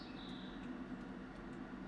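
A steady low computer fan hum drones evenly throughout, with faint distant birdsong from a hunting game sounding thinly above it and no talking.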